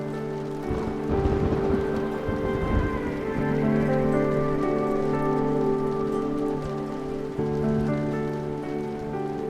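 Steady rain falls on surfaces, a continuous dense patter that holds at an even, fairly loud level with no voices.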